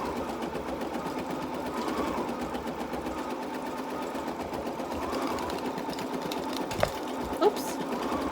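An embroidery machine stitches steadily at a club meeting, a fast even mechanical chatter running throughout, with a couple of sharp clicks near the end.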